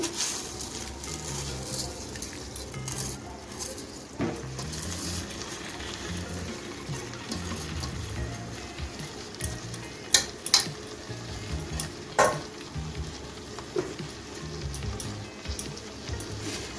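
Soaked rice goes into a pan with oil and fried prawns for a chilli prawn pulao, crackling in a soft ongoing sizzle with occasional spatula clinks and scrapes against the pan, and no voices.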